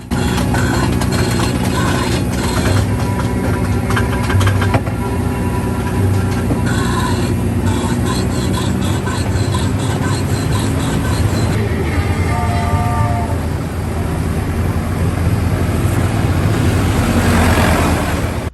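A continuous rumble of the Casey Jr. Circus train ride at Disneyland rolling along its track, steady and fairly loud throughout, with faint tonal music-like notes drifting in partway through.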